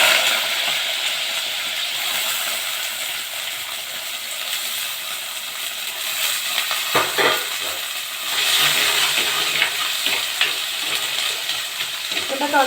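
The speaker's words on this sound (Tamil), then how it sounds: "இப்போ நம்ம சுண்டக்காய் போட்டுடலாம் எண்ணெயில்" Turkey berries (sundakkai) drop into hot oil with popped mustard seeds for a tamarind curry, giving a steady, fairly loud broadband sizzle with scattered clinks and scraping from stirring throughout.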